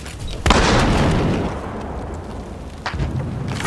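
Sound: incendiary grenade exploding in the video game Battlefield Hardline

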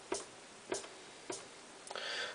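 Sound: hi-hat sample on MPC 2500

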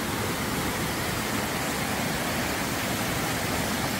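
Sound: water running out of a pipe on a ranch

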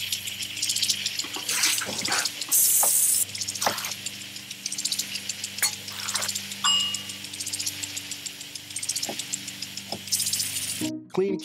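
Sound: water running from a kitchen tap

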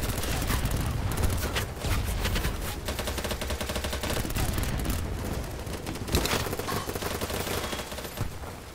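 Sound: gunfire in a video game

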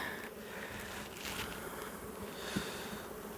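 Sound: honeybees buzzing at an open hive

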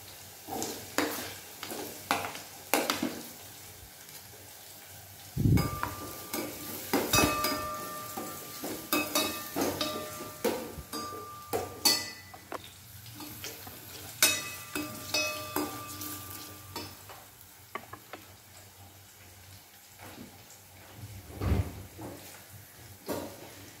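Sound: onion and chili frying in a pan

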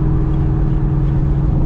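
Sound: Mustang GT straight pipe exhaust cruising

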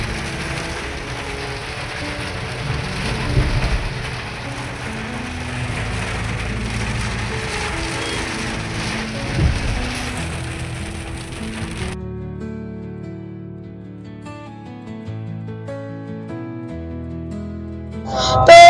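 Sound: heavy downpour of rain

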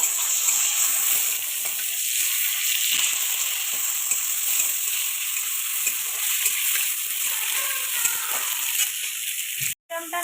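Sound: tomatoes frying in oil

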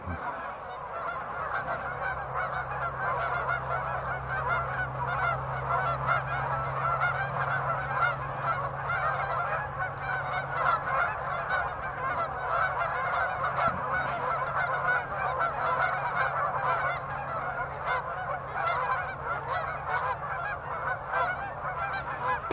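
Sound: waterfowl calling on a wild rice pond

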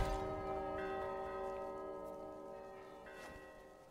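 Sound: bell ringing in Gris video game

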